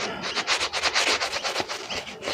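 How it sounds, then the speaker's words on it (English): A wire brush scrubs surface rust off metal in a tight spot, a steady run of close, loud, rhythmic rasping strokes with no talk. "The old wire brush might help."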